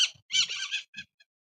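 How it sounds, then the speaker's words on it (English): Birds in a backyard aviary let out a few loud, harsh squawks close by, one long raspy call followed by two short clipped ones. "Those are Backyard beautiful bird aviary. noises."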